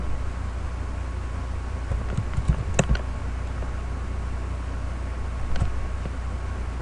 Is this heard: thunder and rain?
no